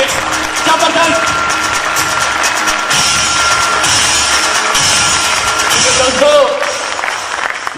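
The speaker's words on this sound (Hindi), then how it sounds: "मेरी माताजी के लिए एक बार जबरदस्त तालियां होनी चाहिए" A large crowd claps and cheers loudly for a man's mother, steady dense applause with whoops and shouts rising throughout, broad and continuous, with voices mixed into the din.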